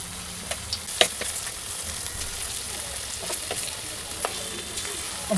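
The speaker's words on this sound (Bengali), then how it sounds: "তেল গরম হয়ে গেছে মিডিয়াম ফ্লেমে আমি চিকেনগুলোকে সব ভেজে নেব" Chicken pieces fry in hot oil over a medium flame, giving a steady close sizzle broken by sharp crackles and pops. No one speaks.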